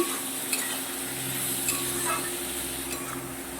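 Tangra fish coated in a cumin, coriander and chili powder batter is stirred and fried in a pan, with a continuous close sizzle broken by light scrapes and clinks of the spatula.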